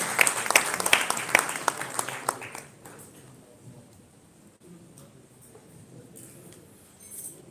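Guests at an executive business dinner give a round of applause for a keynote speaker, brisk clapping for about two and a half seconds that then fades into quiet room noise.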